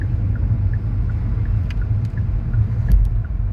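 An Audi car rolls past with a steady low rumble, its engine noise heavy and fairly close throughout with no voices.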